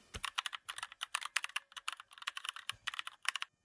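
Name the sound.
typing on a computer keyboard into a search engine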